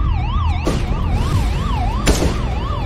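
A loud wailing police siren in a video game sweeps up and down in pitch continuously, with a couple of sharp bangs cutting through it.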